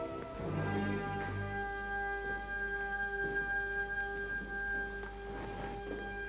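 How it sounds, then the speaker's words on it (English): Beethoven's music plays on its own, with sustained harmonic tones, a dense low-register passage in the first second and a steady flow of notes throughout. It stays moderately loud, with no talking. "Yes, it's Beethoven."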